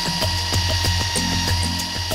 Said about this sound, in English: The drilling has started, so the tiny microchip can be placed in the horn.